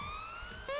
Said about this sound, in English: is there any way that we can turn this siren off?